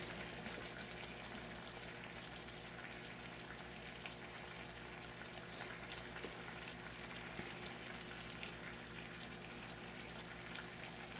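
Water at a rolling boil over a steady burner flame in a small pot, a constant dense bubbling hiss with low roar running unbroken throughout, close and moderately loud.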